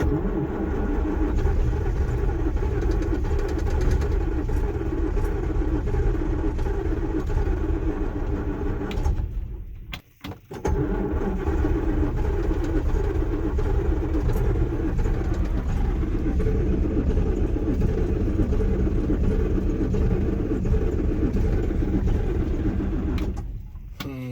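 A John Deere 6620 sidehill combine's engine runs loud and steady close by, revving with throttle, with a brief dip near the middle before the roar resumes.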